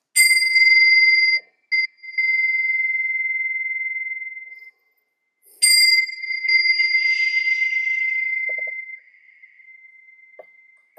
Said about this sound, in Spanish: toca la campana para comenzar concentrándonos